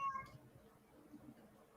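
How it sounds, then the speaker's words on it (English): A cat gives a short, close meow at the start, followed by faint low room noise and a brief murmur. "Sorry about the cat."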